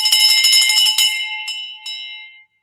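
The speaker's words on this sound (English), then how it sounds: "Oh, we got our first bell ring here." A victory bell rings out in an office sales call, a quick run of bright clanging strikes followed by a few separate dings that ring on and fade, loud and close.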